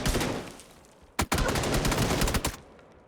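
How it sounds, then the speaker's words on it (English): Shotgun gunfire during a PUBG pro scrim match: dense bursts of loud, sharp shots close up, a brief lull, then two hard blasts and another long stretch of rapid fire before cutting off, with no talk. "One hit with the shotgun."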